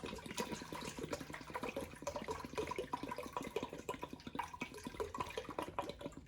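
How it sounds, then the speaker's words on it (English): A half gallon of white vinegar pours steadily into a bowl, a continuous close splashing and gurgling stream lasting several seconds with no talk. "we're gonna pour our half gallon or 2 quarts of white vinegar into a bowl"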